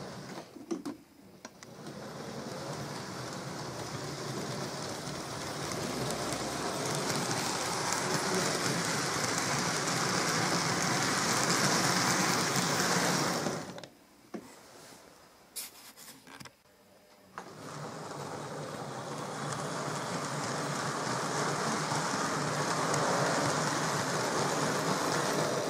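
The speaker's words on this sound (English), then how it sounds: "Now we're going to shunt the train onto the inner track" A Tri-ang Brighton Belle model train runs steadily around its track, a continuous close rattling whir that cuts out briefly for a few seconds and then resumes at the same level.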